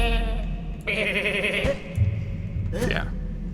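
A goat bleats in goat mode in the video game A Story About My Uncle, a few wavering cries layered over game sound and someone talking.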